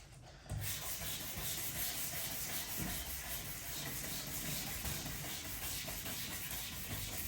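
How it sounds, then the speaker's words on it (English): Bodywork on a Vauxhall Corsa D SXi is sanded by hand in a continuous, close scratchy rasp that starts abruptly and runs steadily to the end, with no talk. "Not going to take a lot to sand this out."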